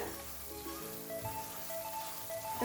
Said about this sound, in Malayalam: നന്നായി തിക്കായി ഈ പാനിൽ നിന്ന് വിടുന്ന പരുവാകുന്ന വരെ ഇളക്കിക്കൊണ്ടിരിക്കാം